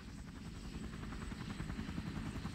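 A Loach light observation helicopter from the Vietnam War flies steadily, its rotor chop a dense, continuous low throb with a faint high whine on top and no speech.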